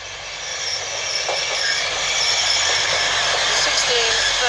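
A Grand Central passenger train pulls into Northallerton station on the East Coast Main Line, its steady rumble and rolling wheel noise gradually growing louder, with a voice speaking over it.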